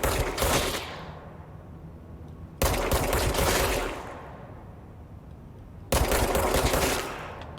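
Three loud bursts of rapid gunfire in the video game Control, each a dense close volley followed by a decaying echo tail before the next burst begins.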